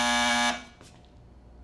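A pressed buzzer in a cartoon sounds a loud, flat electronic drone for half a second, then falls to quiet, broken by a faint click and a sudden new sound at the very end.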